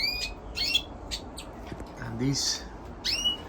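Canaries and Greensingers call inside an aviary used for breeding mules, a few bright chirps and short trills in bursts, with someone talking over them.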